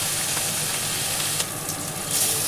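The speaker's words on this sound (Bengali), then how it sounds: "একইভাবে আমি আবার 2টো মাছ ভেজে নিচ্ছি।" Fish frying in a pan give off a dense, loud, continuous hiss of sizzling oil, with a faint scrape or tap now and then and no talk.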